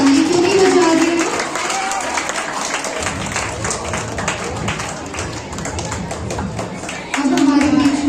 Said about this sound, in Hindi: हम लोग अपने टीचर्स के लिए ताली क्यों नहीं बजा रहे हैं?